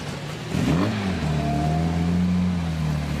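A 1954 Austin Healey 100 Le Mans Special at a car show arena rises into a loud, close engine rev, then settles into a steady, powerful running drone with a sustained low rumble.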